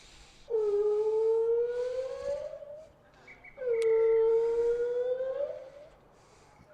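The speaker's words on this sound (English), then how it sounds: "And that would be an interesting sounding halftime siren." A halftime siren sounds at an under-13 boys rugby league match: two long, loud, wailing blasts separated by a short pause, each rising and then holding.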